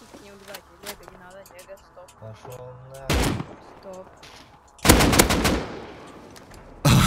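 Gunfire in the survival video game Rust comes as loud bursts of rapid automatic shots amid quieter game sounds, with players talking over it.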